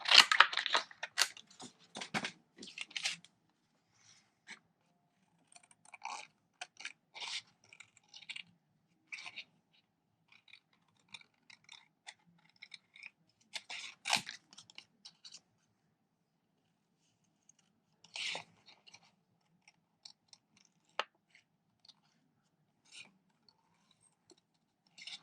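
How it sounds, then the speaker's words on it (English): Paper being fussy cut by hand with scissors for a Stampin' Up front flap box, making soft snipping and crisp crunching cuts close by, busy at first and then sparse and intermittent across long quiet gaps. "All right, so now I have to just fussy cut this."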